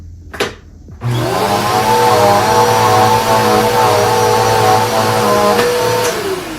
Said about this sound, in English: let me show you guys how easily it glides on the carpet